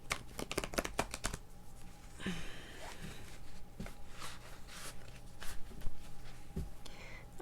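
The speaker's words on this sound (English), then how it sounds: "I'm not a very good riffle shuffler." A tarot card deck being riffle shuffled by hand: a quick burst of flutters, then softer card handling and further riffles, close and quiet, with occasional faint speech.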